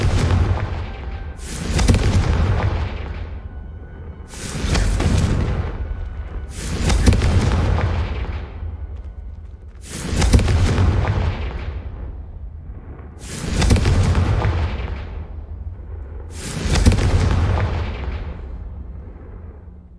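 Fire-spell blasts from Hogwarts Legacy boom out one after another, about six deep explosive bursts each trailing into a rumbling decay, loud and spaced a few seconds apart with no talking.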